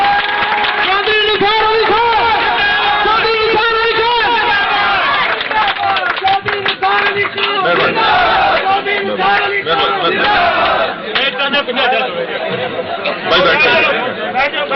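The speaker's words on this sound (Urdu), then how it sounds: "آپ سب کی بھرپور تالیوں میں کھڑے ہو کر استقبال کیجیے گا آپ کے اور میرے قائد چودھری نثار علی خان صاحب" Dense crowd noise fills a rally hall as people stand to welcome Pakistani politician Chaudhry Nisar Ali Khan, a steady loud mass of chatter, shouts and scattered clapping running throughout with no clear pause.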